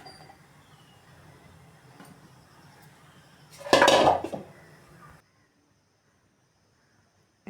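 Metal steamer pot and lid clatter while momos go into an idli steamer to cook, a short loud clang and scrape near the mic over faint kitchen background, then silence.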